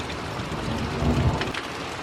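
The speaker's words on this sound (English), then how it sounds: "Well, first big rain we've had in like 3 weeks." A heavy thunderstorm after weeks without rain: a steady, loud wash of rain hitting surfaces with a low rumble of thunder swelling briefly in the middle, no voices.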